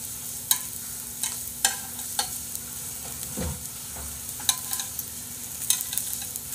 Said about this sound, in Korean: 화면을 확대해서 보시면 지글지글하는 게 보일 거야